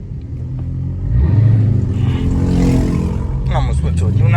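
A Chrysler 300 with a 5.7 HEMI V8 rumbles low and deep from inside the car, swelling into a louder rev around mid-clip before settling back, with a voice talking over it near the end.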